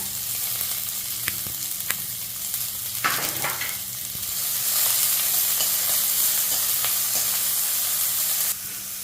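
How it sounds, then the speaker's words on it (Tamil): Onions sautéing in a pan with fennel, green chili and garlic for a white kurma, a steady close sizzle with scraping stirs, growing louder and more hissing midway before easing near the end. "பெரிய வெங்காயம் போட்டு வதக்கிடணும்"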